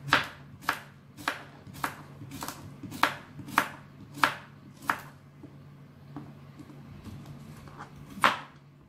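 A knife slices through cucumber on a board in about a dozen crisp, evenly spaced chops, close and fairly loud, thinning out toward the end with a final sharp cut.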